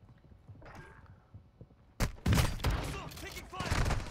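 Gunfire in Warzone, a quiet stretch of faint game ambience broken after two seconds by a loud burst of rapid close shots and impacts that keeps going to the end.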